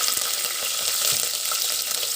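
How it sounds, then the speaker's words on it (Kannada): Whole spices such as cinnamon and cloves frying in hot ghee and oil in a pan, a close, continuous crackling sizzle with small bursts and stirring, no voices. "ತುಪ್ಪ ಎಣ್ಣೆ ಬಿಸಿಯಾಗಿದೆ. ಸೊ ಅದಕ್ಕೆ ಇದನ್ನು ಹಾಕೋತಾ ಇದ್ದೀನಿ, ಸ್ಪೈಸಸ್ಸು."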